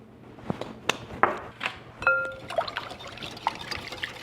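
Cream, whole milk, eggs and egg yolks poured into a large mixing bowl for French toast custard, heard as a few short liquid splashes and trickles with light clinks, close and fairly quiet, no talking.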